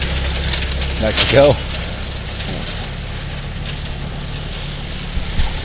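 An Allis Chalmers tractor engine runs at a steady, low idle somewhere in a barnyard, a constant rumble beneath a brief spoken word.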